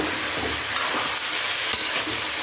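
Food stirred in a pan after salt and chili go in, a dense, steady sizzle and hiss with faint spoon scrapes, close and continuous, no talking.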